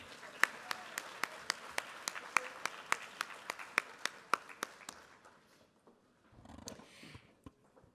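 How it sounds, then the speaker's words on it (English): An audience at a Cesar Chavez community celebration claps for a group of dancers: sharp, steady applause lasting several seconds, fading to a few scattered claps and some murmuring near the end. "Let's give another round of applause to Joaquin and his dancers"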